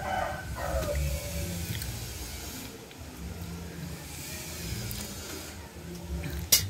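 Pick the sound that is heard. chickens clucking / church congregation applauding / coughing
chickens clucking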